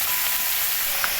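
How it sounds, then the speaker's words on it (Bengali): Washed mixed vegetables hit hot oil in a pan, giving a steady, loud hiss of sizzling that holds evenly from start to finish. "এবার ধুয়ে রাখা সবজিগুলো ঢেলে দেব।"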